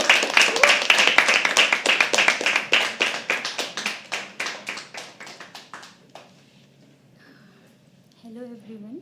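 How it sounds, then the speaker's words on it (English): Audience clapping at a live poetry open mic at The Habitat, dense and loud at first, then thinning into scattered claps that fade out, with a voice beginning to speak near the end. "can we please start clapping for Syahi?"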